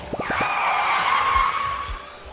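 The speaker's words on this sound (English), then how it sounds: "Tire screech." Tire screech in the video game Bear & Breakfast: a short, sustained squeal sliding slightly in pitch for about two seconds, loud and alone, with a few brief thumps at the start and end.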